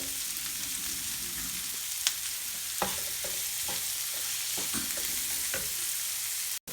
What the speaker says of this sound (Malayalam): ഉള്ളി നന്നായി വഴലണം. ഈ ഉള്ളി നന്നായി വഴറ്റിയാൽ മാത്രമേ ഈ കറിക്ക് ആ ഒരു ടേസ്റ്റ് വരികയുള്ളൂ.